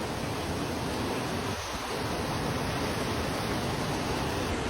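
A hidden waterfall on the border between Aceh and North Sumatra roars as a steady, loud, dense rush of falling water that fills the whole clip without a break, heard close up with no voices.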